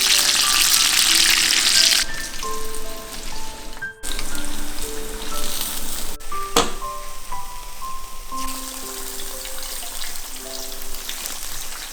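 Chicken karaage, Japanese fried chicken, crackles loudly in deep oil on a high flame during its second fry, a dense continuous sizzle like heavy rain with occasional sharper pops and clinks.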